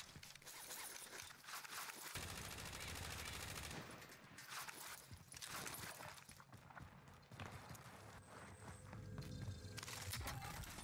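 Sniper and other gunfire in the video game Warzone, dense game battle noise with repeated sharp shots and impacts running almost continuously, loud and close throughout.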